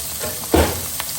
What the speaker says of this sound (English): there's my Plaice just cooking away there